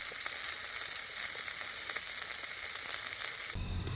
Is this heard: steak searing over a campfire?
yes